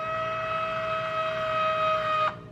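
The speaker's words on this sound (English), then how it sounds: "as soon as you touch them, the shoes light up, and they'll start lacing" A Nike HyperAdapt 1.0 self-lacing shoe's motor gives a steady, high-pitched whirring whine that holds for about two seconds, then cuts off abruptly, heard close and alone.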